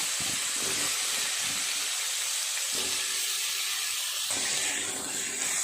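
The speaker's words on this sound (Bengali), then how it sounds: "ওলকপি, আলু, কচুরমুখী সব সবজি ভালো করে ভেজে নেব।" Kohlrabi, potato and taro pieces fry in a pan, giving a steady bright hiss with a few soft knocks and stirring clatters underneath, close and continuous.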